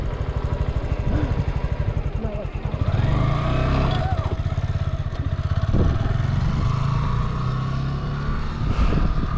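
A motorcycle engine runs steadily near at hand while the rider shifts up into second gear, the pitch dipping briefly and then climbing again as the throttle reopens, with a voice talking over it.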